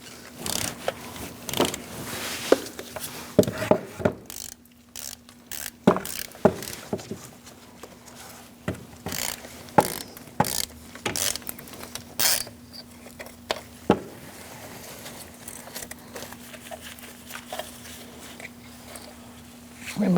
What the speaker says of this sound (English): I'm going to use a 10mm socket and an extension to loosen up